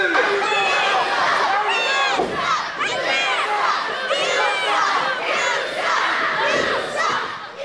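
Wrestling fans at a Florida CCW event in Sebring roar and jeer at the Syrian Slasher, a dense, loud crowd of shouts and chants that continues throughout.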